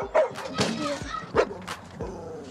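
A dog gives several short barks and yips, close by and loud, with talking mixed in around them.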